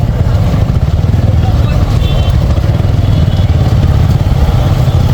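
Dense traffic of motorcycles and cars near an international trade fair makes a loud, constant engine roar, with a babble of crowd voices mixed in throughout.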